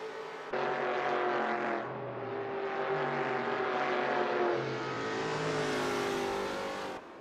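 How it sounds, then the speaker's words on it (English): A big carbureted V8 race car roars in Assetto Corsa, its deep engine note climbing and falling through revs as it drives past, loud and steady with no talk over it. "Big carbureted V8."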